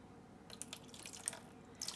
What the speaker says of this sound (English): it looks like I'm running out of water here.